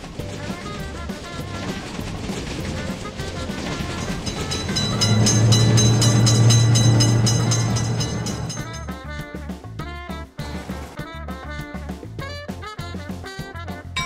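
A fast train rolls through a level crossing, its loud continuous rumble and rattling wagons swelling to a peak mid-pass, with wheel clatter continuing as the cars go by, close to the crossing.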